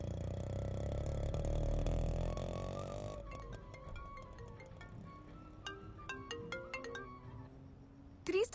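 A phone rings out during an outgoing call, a melodic ringtone of short repeated tonal beeps after an initial stretch of low background hum, heard clearly at close range without talk.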